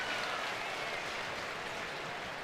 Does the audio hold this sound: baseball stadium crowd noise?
yes